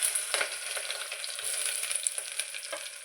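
Onions and green chillies fry in hot oil for an aloo egg curry, giving a steady close sizzle with light scraping from stirring throughout, no voices.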